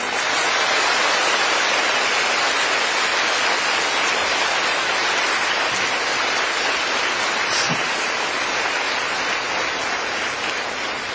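A big crowd at a public speech keeps up sustained applause, a thick, even roar of countless clapping hands that holds steady at full strength for the whole stretch, with no voices over it.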